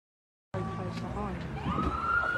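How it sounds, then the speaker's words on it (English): Police car sirens wail from a distance with rising and falling tones, starting abruptly after a brief silence and continuing steadily, with faint voices in the background. "A lot of police cars."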